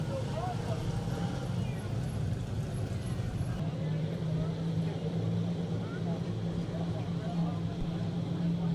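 Race cars circling Riverhead Raceway under caution, a steady low engine drone that shifts in pitch partway through, with a commentator talking over it.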